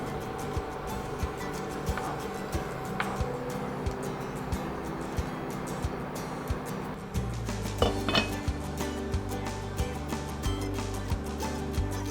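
A spoon scrapes and clinks inside a pot of braised pork belly with tau kwa and egg, followed by a lid set down with metallic knocks and rattles, close and fairly loud.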